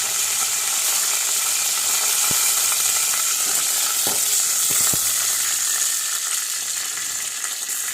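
Okra sautés in hot oil with a dense, constant sizzle throughout, broken by a few sharp clicks of a spoon or pan against the vessel; no one speaks.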